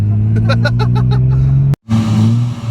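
A Nissan 350Z fitted with steering rack spacers swings through a full-lock U-turn, its engine holding a steady, close, droning hum that briefly cuts out before settling back in.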